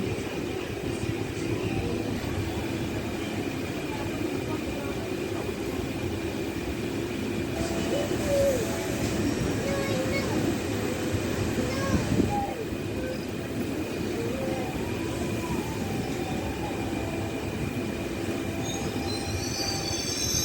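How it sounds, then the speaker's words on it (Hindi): A DEMU passenger train pulls into Umdanagar station. It gives a continuous rumbling roll with high, sustained wheel squeals, and the noise swells slightly toward the end as the train slows. "Train is arriving Umdanagar."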